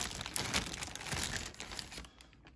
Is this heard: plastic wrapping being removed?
yes